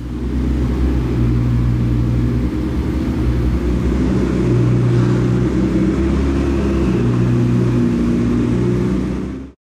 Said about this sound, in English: The car's now going to head over to the other side over there for paint protection film